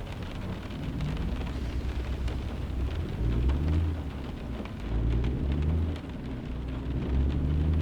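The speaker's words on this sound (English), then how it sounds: "Rain stopped pretty quickly, didn't it?" Steady rain hisses and patters on a truck cab in American Truck Simulator, with deep low rumbling and swells in intensity throughout, with no talking.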